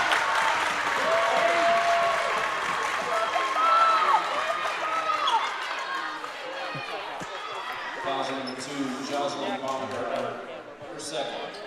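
A crowd at a girls high school state playoff basketball game cheers and applauds, loud at first then thinning out, with sneaker squeaks, bouncing and voices underneath.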